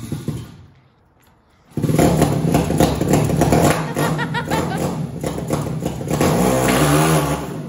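A 450cc motorcycle with no front tire starts after a brief lull and then revs loudly and continuously with a rough, rattling engine note, close by, while people talk briefly.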